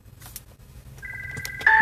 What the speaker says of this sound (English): I'm sorry, that was my phone.